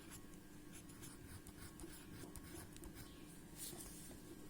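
Chalk or a pen writes on a classroom board during a Hindi grammar lesson, a faint, scratchy run of short strokes in a quiet room with no talking.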